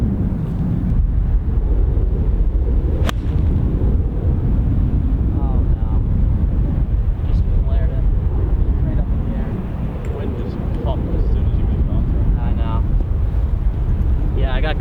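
Wind gusting across a golf course, heavy roaring buffeting over the microphone throughout, with a voice faintly audible beneath the rumble.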